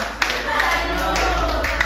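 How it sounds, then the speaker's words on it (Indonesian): A group claps steadily for a couple of seconds, a dense patter of hands close by, with faint voices mixed in. "Tepuk tangan buat Busnul ya"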